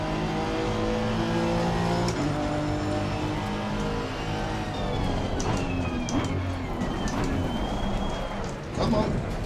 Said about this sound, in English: Lamborghini, that is a fast car